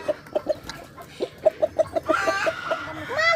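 Free-range desi hens cluck in short, evenly spaced bursts on a village-style poultry farm, with a louder clucking call rising near the end over a faint outdoor background.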